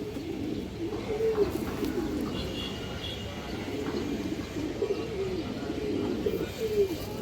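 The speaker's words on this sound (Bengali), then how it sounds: "বিগ সাইজের এক পেয়ার চুইঠাল মুসলদম কবুতর" A big-sized pair of Chuithal Musoldom pigeons coo in repeated soft, throaty rolls, close by, over a steady low background hum.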